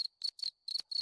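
A cricket chirping sound effect played from a Discord soundboard gives four or five crisp, evenly spaced trilled chirps, faint and clean against silence.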